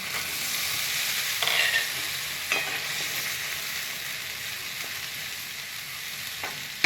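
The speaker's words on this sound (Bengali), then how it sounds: "এবারে একটু নেড়ে নেব। আমি টমেটোটা বেটে রেখেছিলাম, সেই টমেটো বাটাটা দিয়ে দিচ্ছি।" Ground tomato paste fries in a pan with a dense, even hiss, while occasional soft scrapes of a spoon stir it, heard close and without any talking.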